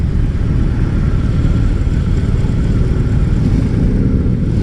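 BMW R18 B motorcycle engine revving while stationary, a steady, loud, close low rumble that holds throughout with no talking.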